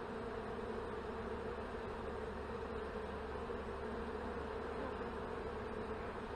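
Honey bees swarm around an opened hive during an inspection, a dense, steady buzz holding at even loudness from start to finish with no talk.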